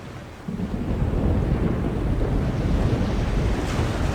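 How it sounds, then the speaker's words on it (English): A chaos storm in the video game The Longest Journey, with deep rolling thunder and crashing sea waves over gusting wind, swelling loud after a brief quieter start and staying heavy to the end. "Aye, by the mercy of Jol, it's a chaos storm."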